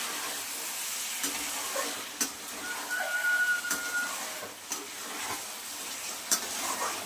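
Eggplant and potato being stirred and sautéed for katla fish curry, a continuous close sizzle of frying broken by scraping stir strokes and occasional clicks of the utensil against the pan.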